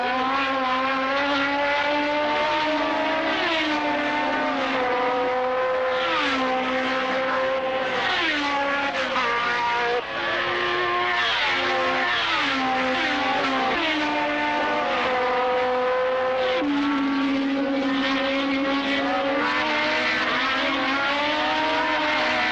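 Race cars screaming past at Monza during the 43rd Italian Grand Prix, heard through a radio broadcast: continuous high-pitched engine whine with rising and falling gear shifts, loud and sustained with no break.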